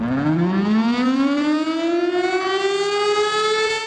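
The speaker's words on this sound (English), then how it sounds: "The next sound is a tornado siren, which obviously warns people when a tornado might be in the area." A tornado warning siren wails alone, its tone sliding steadily upward and holding loud and rich in harmonics through the short stretch.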